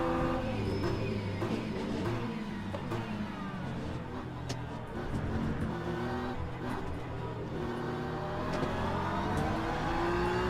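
An LMP2 prototype race car in a sim racing game revs and shifts continuously, its engine note rising and falling through the gears, a steady loud drone with no pauses.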